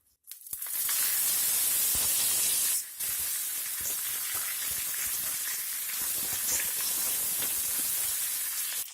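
Curry leaves sizzle in hot coconut oil on a low flame, with dried red chillies and fried mustard seeds, for a Kerala-style cucumber yogurt kichadi tempering; a loud, steady hiss and crackle runs throughout, dipping briefly near the start.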